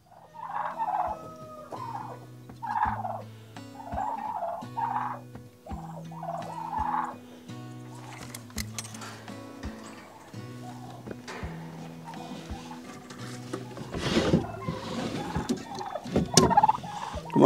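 A flock of farm turkeys let out in the morning, gobbling in repeated rolling bursts at close range, some calls overlapping, with other barnyard fowl noise rising toward the end and no talking.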